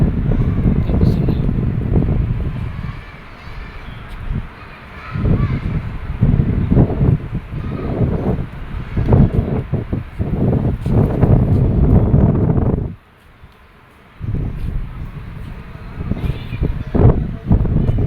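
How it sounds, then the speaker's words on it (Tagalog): Wind blowing across an outdoor children's playground, a loud, steady rumbling roar with gusty swells that briefly drops away near the end before returning; no speech. "Ang hangin."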